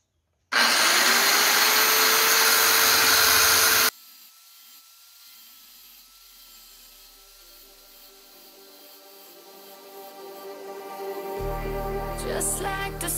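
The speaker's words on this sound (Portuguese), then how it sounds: "Vamos tentar cortar bem direto aqui." A power tool cutting metal straight for a welding job on a Valmet 88 tractor, a loud harsh whine for about three seconds close by, then stopping abruptly and giving way to quieter background sound.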